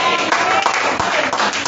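Steady, dense clapping from a crowd, fairly loud and continuous throughout, with some voices mixed in.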